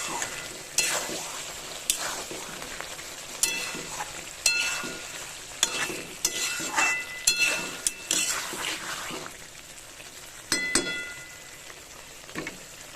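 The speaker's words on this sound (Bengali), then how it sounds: "এই যে ভেজে রাখা ঝিঙেটা ভালো করে নেড়ে চেড়ে মিশিয়ে দেবো ঝিঙেটাকে" Ridge gourd, fried earlier, stirred and tossed in a pan with potatoes, a spatula scraping in irregular strokes over a steady close sizzle of frying, with sharp clinks at intervals and no talking.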